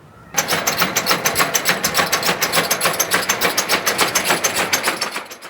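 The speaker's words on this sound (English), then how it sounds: "This machine is one of our seed processing machines." A shaker table seed processing machine for chilli seeds runs steadily, with a dense, fast rattling and clattering pulse that starts abruptly and continues at constant loudness close up.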